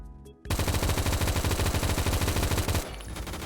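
Rapid automatic M4 rifle fire from Roblox Phantom Forces, a loud, steady burst of closely spaced shots lasting about two and a half seconds, then tapering into quieter game noise.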